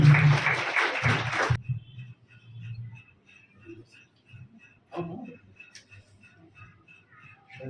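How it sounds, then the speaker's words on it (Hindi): Audience applause at a Mother's Day event in a girls' senior secondary school hall. A loud burst of clapping lasts about a second and a half, then cuts off to near silence with faint background murmur. "जोरदार तालियों के साथ पूंजी का।"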